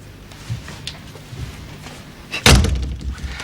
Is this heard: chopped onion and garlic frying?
no